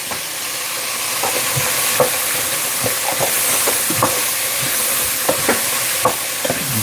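Carrots, onions and celery sweat in a pan in a home kitchen, giving a steady close sizzle punctuated by scattered clicks and taps of stirring.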